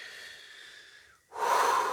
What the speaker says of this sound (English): So just taking a breath.